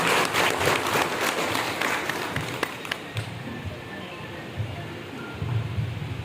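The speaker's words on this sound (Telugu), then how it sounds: "కాబట్టి దయచేసి అందరూ బాగా చప్పట్లు కొట్టాల్సిందిగా మనం చెప్తా ఉన్నాం." An audience claps at an RTC felicitation ceremony honouring bus drivers. Loud, dense applause fills the first three seconds, then thins into scattered claps and room murmur.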